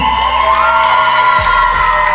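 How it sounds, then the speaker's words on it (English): A live audience at a Welsh talent show semi-final cheers and whoops for a contestant, a loud, continuous crowd roar with shouts rising over it. "can we just have a massive round of applause for this lovely lady here?"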